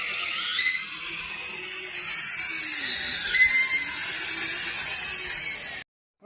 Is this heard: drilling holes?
yes